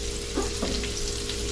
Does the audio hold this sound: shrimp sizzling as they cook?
yes